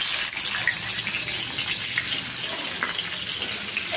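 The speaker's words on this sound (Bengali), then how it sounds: "আমি পেঁয়াজ দিয়ে দেব।" Onions hit hot oil in a pan after cashews and almonds were fried for chicken pulao, giving a loud, continuous close-up sizzle that holds steady throughout.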